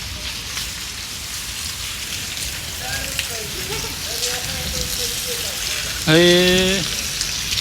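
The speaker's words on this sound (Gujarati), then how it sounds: "જો મસ્ત વરસાદ આવ્યો." Heavy downpour at the first good rain of the season, a steady dense hiss of rain on surfaces throughout, with a person speaking briefly in the middle.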